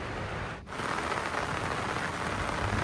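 Heavy rain pours down at night in a high Himalayan alpine meadow on a shepherd's route. A dense, steady roar of rain on surfaces fills the space, with a brief dip near the start.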